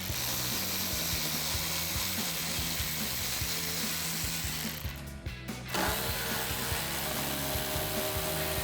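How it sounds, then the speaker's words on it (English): A 10mm socket on a ratchet loosens the upper and lower headlight bolts of a RAM 1500, producing a steady, dense whirring clatter that continues almost throughout, broken by a brief pause midway. "Now we can use our 10mm socket to remove this upper and lower bolt here on the headlights"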